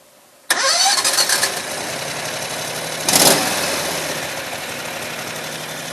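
A Predator 670cc small engine starts abruptly with a loud roar, then settles into a steady, close idle, with a brief rise in revs midway.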